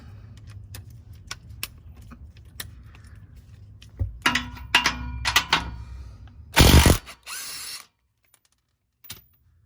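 A ratchet loosening a 15 mm bolt on the exhaust of a 6.4 Hemi Scat Pack Charger, with a rapid string of close clicks, then louder clunks and a short burst of mechanical noise before it falls quiet.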